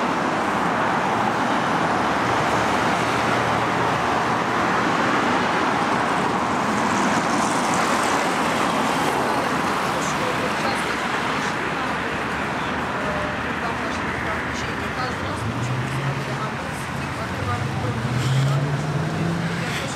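Car traffic on Nevsky Prospect in Saint Petersburg, a dense, continuous roar of passing vehicles and road noise close by, with a few rising engine tones near the end; someone talks over it.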